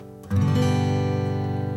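After a brief quiet moment, a single strong downstroke on a guitar rings out as a full, sustained chord, close and clear, slowly fading with no talking.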